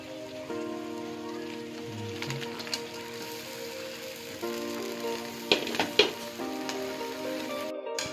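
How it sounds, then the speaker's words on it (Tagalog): Shrimp sizzling and frying in a butter garlic sauce, a steady close crackle and hiss with occasional stirring clatters and pops, no talking. "Lagay na po natin ang hipon."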